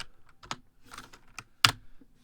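A handful of scattered keystrokes on a gaming computer keyboard, soft clicks spaced apart with one sharper, louder key strike near the end, close and otherwise quiet.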